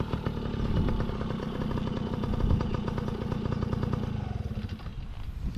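A kids' motorcycle rides around a training track, its engine droning steadily and fairly loud for the whole stretch with a smooth, even note and no sudden revs.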